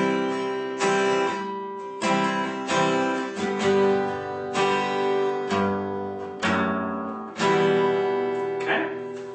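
Guitar picking out a passage from a song, heard alone: a series of plucked notes and ringing chords that strike roughly every second, each one decaying before the next.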